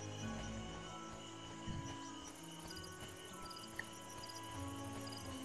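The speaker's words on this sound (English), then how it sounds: "Just listen to those crickets." Crickets chirp steadily in the quiet night ambience of the fantasy role-playing game Drakensang: The River of Time, a faint, continuous layered trill with soft occasional patters and no talking.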